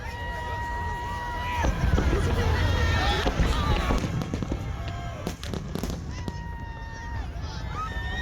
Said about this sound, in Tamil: ஸோ ஃபைனலாக அவங்க வெடித்த வெடி இருக்கு பாருங்க, சும்மா இடி மாதிரி விழுந்ததுன்னு தான் சொல்லணும்.